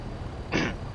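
A single throat-clearing cough from someone narrating over a road and rail sound pack, one short harsh burst of about half a second, close to the mic and alone against a low background hum.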